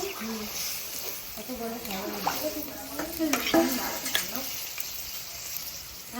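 Potatoes go into a hot pan of spiced meat curry (kosha mangsho) and sizzle steadily while a spoon scrapes and stirs. A voice talks over the frying throughout.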